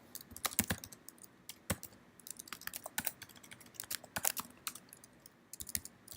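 A computer keyboard is tapped in quick, irregular bursts of light, clicky keystrokes, close and moderately quiet against a faint hum, with short pauses between runs of typing.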